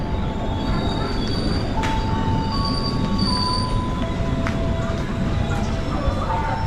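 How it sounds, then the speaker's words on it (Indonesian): Passenger train with its locomotive pulling into a station on the line toward Merak: a loud, continuous rumble of rolling wagons with thin wheel squeals and a brief high whine above it. "sudah masuk lokomotif"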